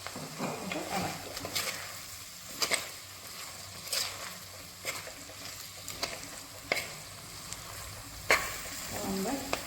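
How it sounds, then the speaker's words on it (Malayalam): Prawn peera stirred in a pan with raw coconut oil, giving a soft continuous sizzle broken by repeated sharp scrapes and clacks of a spoon against the pan, close and moderately quiet. "എന്നിട്ട് ഇളക്കുക."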